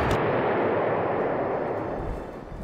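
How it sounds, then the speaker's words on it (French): A single loud, heavy artillery blast rumbles through the Panzer Corps World War II strategy game, a dense roar that fills the moment and then slowly fades. "Là, un petit coup d'artillerie pour supporter."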